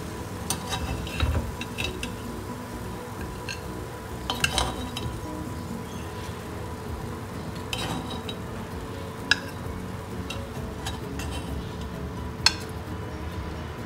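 Sweet foxtail millet ghee appam sizzling in a pan, a steady low frying hiss running throughout, broken by a few sharp metallic clinks and scrapes of a utensil against the pan.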